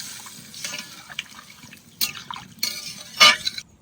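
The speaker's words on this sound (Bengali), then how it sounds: "এবার জল দিয়ে দিলাম" Water is poured into a rohu fish curry with potatoes in a village kitchen, soft close splashes and trickles with a few brighter drips, fairly faint.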